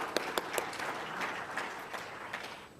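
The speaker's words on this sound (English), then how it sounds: "One more round of applause there." An audience at a meeting gives a round of applause, moderate and a little distant, with a few sharp individual claps standing out over the steady patter.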